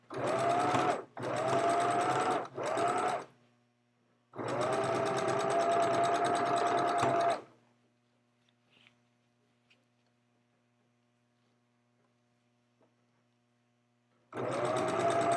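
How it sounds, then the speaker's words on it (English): A sewing machine stitches a shorts waistband on the inside of the garment in three short bursts, then one long steady run, falls quiet with faint clicks, and starts again at the end. "The right side of the waistband, I'm sewing on the inside of the shorts."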